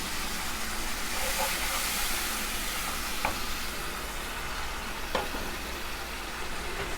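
Cumin and masala sizzle steadily in a pan for a fish do pyaza curry, with a splash of water added and a few faint stirring clicks over the constant hiss.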